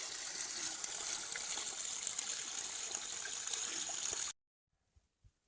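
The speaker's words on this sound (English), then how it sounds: "this is undoubtedly the fanciest spring I've seen on the entire trip." A spring along the Appalachian Trail gushes in a steady, close, full-bodied flow for about four seconds. It then cuts off abruptly into near silence broken by a couple of faint soft knocks. Nobody speaks.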